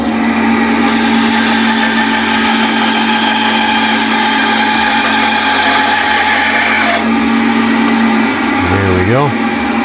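A bandsaw cuts through scrap wood to slice off the back of a box, a loud steady running whine with broadband cutting noise for most of the stretch, easing near the end as the cut finishes and the tone drops.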